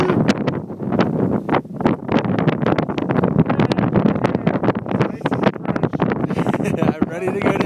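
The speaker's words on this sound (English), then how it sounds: "The wind is just blowing the snow." Strong wind gusting across the snowy summit crater of Mount Rainier, buffeting the microphone in loud, continuous roaring bursts with voices faintly underneath.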